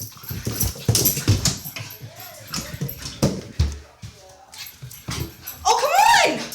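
Small puppy giving high yips, short barks and whimpers indoors, close and fairly loud, with a person talking in between.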